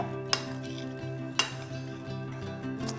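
Salad being tossed in a bowl with Himalayan pink salt, a steady close clatter of utensils against the bowl with two sharp clinks standing out early on.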